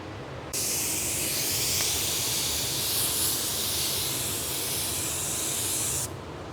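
A spray gun hisses steadily and continuously for about five seconds, spraying primer close and even, starting and stopping abruptly against a low background hum.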